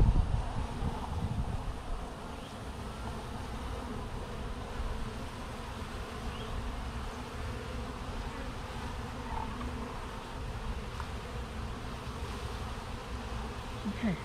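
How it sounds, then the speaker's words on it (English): Young honey bees raked down into a measuring cup during a varroa mite check, a dense steady buzzing swarm close by, continuous for the whole stretch with faint rustling and no talk. "get some of the young bees in here."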